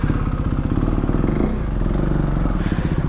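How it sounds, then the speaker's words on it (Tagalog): Big bike motorcycles idle and rumble with a loud, steady, throbbing engine sound close by, on a roadside stop along the NLEX expressway. "ang lalaki ng motor nila"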